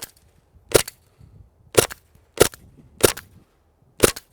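An H&K MP7 gas blowback airsoft gun fires five sharp, loud semi-auto shots at uneven intervals of about a second, each a crisp pop with faint mechanical clatter between, outdoors in cold weather.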